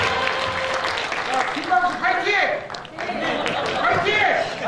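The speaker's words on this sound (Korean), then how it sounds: "큰 박수로 환영해 주시기 바랍니다" Audience applause at a political lecture event in Jeonju welcoming a party official to the stage: steady, dense clapping across the whole stretch, with voices and a ringing tone running through it.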